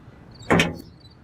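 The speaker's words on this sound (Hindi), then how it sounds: "खोल दरवाजा" A door is opened with a single short, sharp clunk and scrape in the middle of an otherwise quiet room, with no speech.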